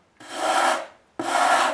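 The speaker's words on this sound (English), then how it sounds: "Just take a sanding block, and I want you to watch this." A sanding block is rubbed along the fiberglass edge of a glider wing in two steady, close strokes of raspy scraping. There is a brief pause between the strokes and no voices.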